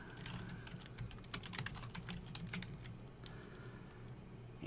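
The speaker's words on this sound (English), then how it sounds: "Now I'm going to type Works Cited" Typing on a computer keyboard while entering text in Microsoft Word: a quick, irregular run of close, soft key clicks over a quiet background.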